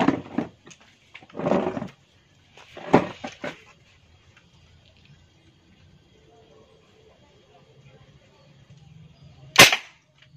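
A toy gun with a 20-round magazine fires a few sharp, snappy pops spaced apart, quiet and close, with soft handling clatter between shots and a louder final crack near the end.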